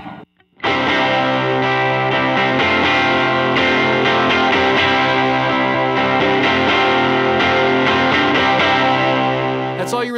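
A sustained, distorted electric guitar chord from a riff rings out loud through a Fender tube amp, with a wash of reverb trailing behind it.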